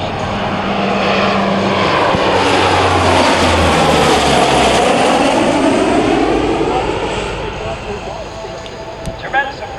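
A propeller-driven military transport with high-horsepower engines and Dowty propellers flies past at an air show, its loud droning engine roar swelling and then fading over about ten seconds while a narrator talks over it.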